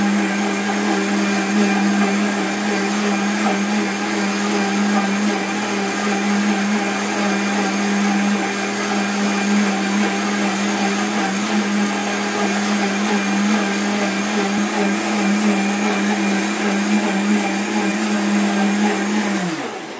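A kitchen blender runs with a small amount of purified drinking water for a final rinse, giving a loud, steady motor whir with churning water that holds for about twenty seconds before cutting off at the end.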